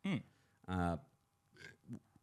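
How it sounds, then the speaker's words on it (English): A person produces a loud, voiced burp as a film reviewer struggles to hold it back, followed by softer throaty mouth noises and short vocal sounds, close and dry. "It's the burp. I tried to suppress it so hard."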